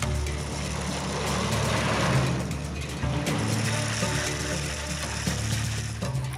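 Heavy trucks grinding down a steep mountain road descent in Ethiopia, a continuous loud mechanical rumble with rattling, clanking gears and engine drone throughout, close by.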